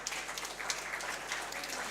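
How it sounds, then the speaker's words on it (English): Applause fills the hall at a moot court competition valedictory function. The clapping is steady and busy and sounds somewhat distant, with a rain-like patter and no voices over it. "A sound applause, please."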